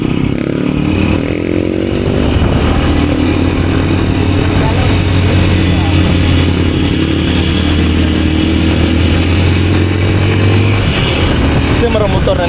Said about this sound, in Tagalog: Kasi marang motor na ni Maho